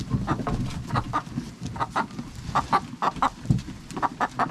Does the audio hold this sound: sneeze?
no